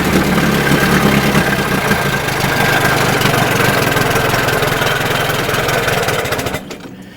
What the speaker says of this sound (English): So overall, I think the little engine runs pretty good.